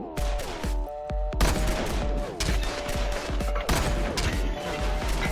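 Gunfire in the VR video game Cold VR comes as rapid, sharp shots in bursts, with some ringing echoes, loud and close and with no talk.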